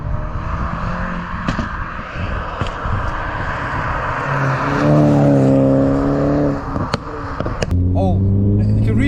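A tuned Stage 1 2016 BMW 330e F30 plug-in hybrid engine revs up while accelerating, its note climbing steadily and then rising again mid-run, heard from inside the car with people talking over it.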